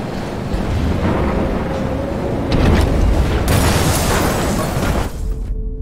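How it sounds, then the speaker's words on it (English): An explosion and fire in the Life is Strange video game roar loudly as a sustained rumbling blast that swells midway, then cuts off sharply near the end. "So we can't get inside unless we stop the explosion."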